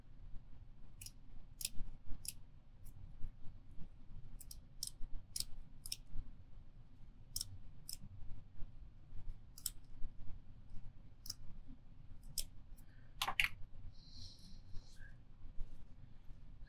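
Cutting a piece of material while building a custom kite fishing rod, heard as a scattered series of sharp, quiet clicking snips over a low, steady background hum, with no talking.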